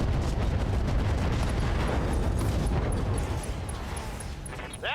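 Explosion in the BattleTech mech combat video game, a dense roaring rumble of blasts and crackling debris that holds for several seconds before easing off slightly.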